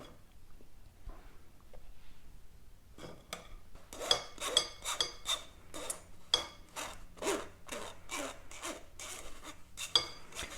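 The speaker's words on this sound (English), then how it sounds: "I always sieve the mixture just to make sure there's no lumps and it mixes really easily" Cocoa powder shaken through a metal sieve into a bowl, a rhythmic series of soft raspy scraping strokes, close and fairly quiet, starting after a few seconds of near silence.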